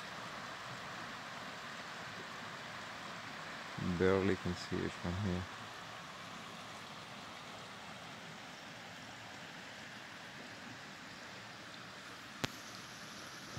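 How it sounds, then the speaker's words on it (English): River rapids near a campsite at Albert Pike keep up a steady, broad rushing wash from start to finish, while someone speaks briefly partway through. "we could hear the river all night long I think there's probably some rapids right there"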